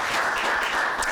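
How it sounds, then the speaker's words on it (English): Applause from a panel audience at a film festival event, a brief dense wash of clapping filling the room at steady loudness with no voices over it. "So just give them applause for bearing with us."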